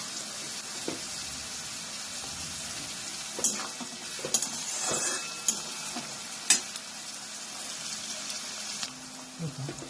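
Onion and tomato sizzling in a pan for modachi usal, a Maharashtrian sprouted moth bean dish, with a spoon stirring and scraping in a few irregular clinks over a steady soft frying hiss.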